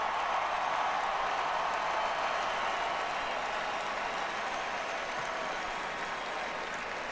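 A sellout crowd at Notre Dame Stadium for a college football game against Pittsburgh claps steadily, a dense, even roar of distant applause filling the whole stretch without a break.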